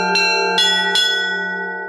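Monastery church bells ring out three clear, resonant strikes about half a second apart, each blooming into a long humming tone that lingers and slowly fades.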